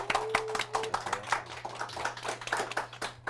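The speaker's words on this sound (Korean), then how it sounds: "박수 부탁드리겠습니다" An audience claps for two guests being welcomed at a Korean book forum, a dense, steady patter of many hands filling the room for several seconds with a low hum underneath.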